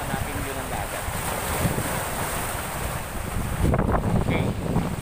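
Sea waves washing against a rocky shore under strong wind, a constant roaring wash with buffeting wind noise on the microphone and a heavier surge near the end.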